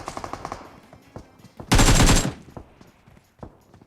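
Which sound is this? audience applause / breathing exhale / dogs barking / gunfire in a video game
gunfire in a video game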